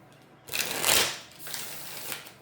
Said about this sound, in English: I was shuffling this deck.